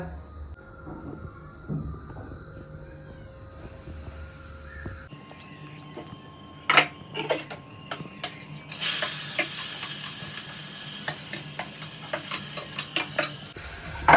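Chopped onion and chili dropped into hot oil for tempering while making Maggi noodles: quiet clinks at first, then a sudden loud burst of sizzling and frying with stirring and scraping, continuing to the end.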